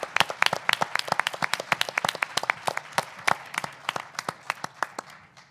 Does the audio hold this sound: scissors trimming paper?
no